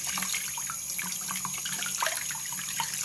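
A bathroom tap runs steadily while hands are rinsed, a continuous close hiss of flowing water with small splashes and trickles, no voices.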